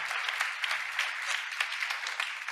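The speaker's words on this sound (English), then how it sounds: "You may clap now." Audience applause following a keynote demo at a webinar: a steady wash of many hands clapping, dense and even throughout, heard from some distance and moderately quiet.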